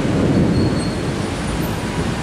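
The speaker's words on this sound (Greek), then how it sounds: "Και φυσικά ακούτε και τα μπομπονιτά, βλέπετε και τις αστραπές." A deep, continuous rumble of thunder from a storm with lightning near Missolonghi rolls low and heavy for a couple of seconds, with no voices.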